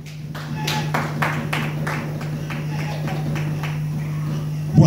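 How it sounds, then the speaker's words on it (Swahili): Church congregation clapping for Jesus, a run of rhythmic claps fading over a few seconds beneath a steady low electrical hum. "Pigie Yesu makofi kama naelewa."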